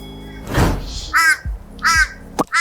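A crow caws twice outdoors, loud and near, with harsh repeated calls separated by a short pause, alongside a couple of dull thumps.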